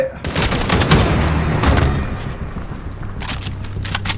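Dense, sustained MG-50 machine gun fire in Call of Duty Modern Warfare, rapid bursts with heavy booming thuds throughout, loud and close, under faint voices.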